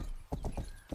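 Hoofbeats of a horse in the video game Rustler, four clear, steady clip-clops close by at a brisk walking rhythm, with no talk over them.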